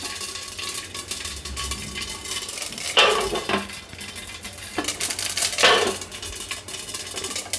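White sesame seeds for handvo crackle and splutter in hot oil, a steady sizzle with sharper bursts of spattering and a few utensil clinks. No one speaks.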